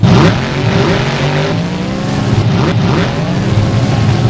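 Son of Grim monster truck at a Jacksonville time-attack tournament, its engine loud and close, revving in rising and falling sweeps with tire squeal as it powers around the track.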